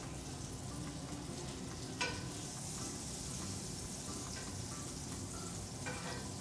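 Butter and olive oil sizzle softly in a pan while being stirred, a quiet continuous hiss broken by a few brief scraping clinks.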